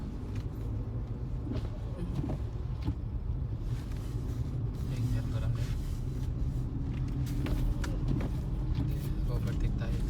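A car crawling slowly along a snowy road during a snowstorm from Mississauga toward Brampton, heard from inside as a steady low engine and road rumble with faint clicks throughout, while people talk over it.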